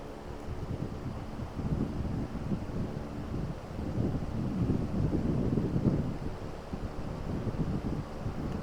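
A 90-watt BLDC cooler motor fan runs at its second speed setting, around 890 RPM. It gives a steady, airy whoosh with a low hum that swells slightly midway, with no talking.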